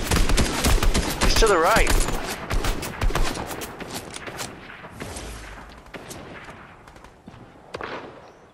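Rapid gunfire in the Fortnite video game cracks in sharp clustered volleys, loud at first and then thinning into scattered shots, while players talk over the action.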